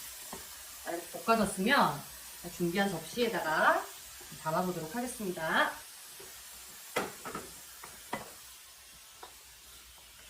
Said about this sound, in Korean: 단시간에 이렇게 야채가 다 볶아졌어요